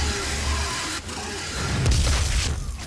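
Gauss cannon in the Doom 2016 video game fired with a heavy, booming blast, followed by a rumbling energy surge and a fading roar over dense game noise.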